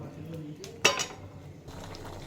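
Bengali potol curry is stirred in a pan with a metal spoon, giving one sharp clink against the pan amid quiet scraping and faint cooking noise.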